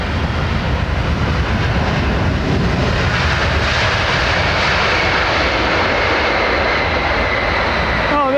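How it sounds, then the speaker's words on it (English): An Air India Boeing 787 Dreamliner in old livery lands at Heathrow, its engines giving a loud, steady broadband roar that builds slightly and holds throughout, with no voices. "Air India, old livery. Dreamliner, like it."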